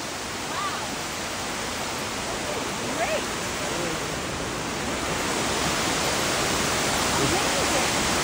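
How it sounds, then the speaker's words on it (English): A waterfall in Vermont in summer pours as a steady, dense hiss that fills the whole clip evenly, with faint voices now and then under the rushing water. "It's a beautiful waterfall."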